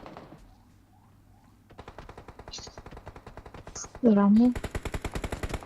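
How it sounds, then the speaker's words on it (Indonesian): Automatic gunfire in PUBG Mobile, rapid evenly spaced shots in long bursts, loud and close, joined by a sharp game alert tone and a brief spoken word near the start. "nembak aku lagi"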